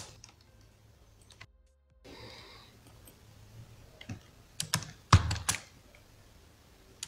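A computer keyboard is used to press shortcut keys while animating in After Effects, giving sparse, close clicks that build into a short burst of louder key presses near the end, with no voices.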